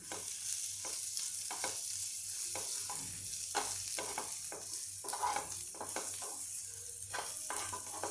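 A spoon stirs chutney seasoned with turmeric and red chili powder in a pan, giving repeated scraping strokes over a soft sizzle that is close and moderately quiet.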